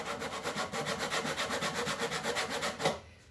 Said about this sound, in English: you can use the corner of your sanding block